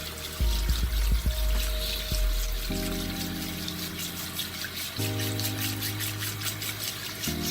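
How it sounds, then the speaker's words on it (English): Running water rinsing an OmniShaver head shaver, a steady close pour and trickle with the buzzing tone of the running shaver underneath, shifting in pitch as it moves under the stream. "Rinse it off a little when you're done."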